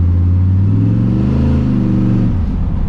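A 1979 Ford F100 with a 408 stroker engine accelerates hard in low gear, a loud, close, deep roar that climbs in pitch and then eases off near the end, with no talk over it.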